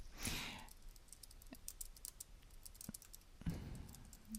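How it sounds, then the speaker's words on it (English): A computer keyboard typed on, with scattered, fairly faint key clicks at an uneven pace in a quiet room and no talk. "If I were to type something here"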